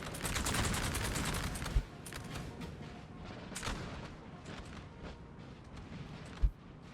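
Musket volleys crack out in the Napoleon Total War video game as British and French infantry trade fire in a Waterloo battle, dense rolling gunfire with a few sharper booms standing out.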